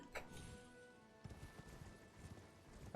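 Horse hooves clop in the video game Elden Ring, a faint rhythmic trotting that grows a little denser in the second half, with no talk.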